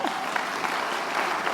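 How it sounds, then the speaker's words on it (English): A large audience applauds steadily at a hospital groundbreaking ceremony, a dense, even wash of many hands clapping close by for the whole stretch. "Give yourselves another round of applause."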